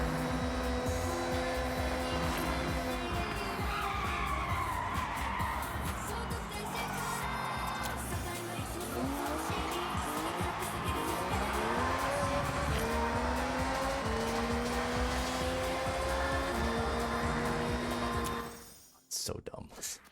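A three-wheeler car driving in the racing game Forza, engine whine rising and falling with tire squeals and skids over about eighteen seconds of steady play, cut off abruptly near the end; a voice talks intermittently underneath.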